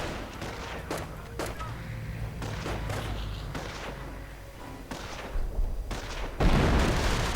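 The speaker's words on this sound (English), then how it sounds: "More artillery." Artillery shells fire and land in a World War II real-time strategy game, with a series of sharp booms and thuds scattered irregularly through the stretch and a heavier blast rolling in near the end over a low battle rumble.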